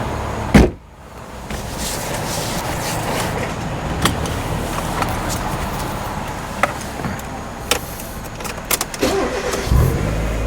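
A 1997 Mazda Miata M-spec with a 5-speed manual and 93k miles drones steadily from inside the cabin as it pulls away, a continuous engine hum with a thump near the start and scattered small clicks.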